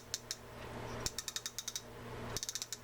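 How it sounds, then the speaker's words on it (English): A click lever on a Zebco XR11 fishing reel ratchets as the metal tab rides the indentations while turning backwards, giving close, crisp clicks in quick bursts of several, separated by short pauses. "a little metal tab here that will run against the indentations in the click lever here and cause a click when that is going backwards"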